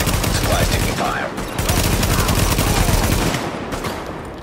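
Rapid gunfire bursts crackle loudly and continuously in The Division during a Hudson Yards supply drop mission, with dense overlapping shots from several weapons and brief lulls between volleys.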